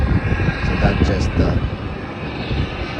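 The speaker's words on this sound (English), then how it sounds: "Melbourne Sunshine Coast flight is taking off now at 737" A Boeing 737 taking off at the airport on a Melbourne to Sunshine Coast flight, heard as a broad, steady jet roar at a moderate distance with voices talking over it.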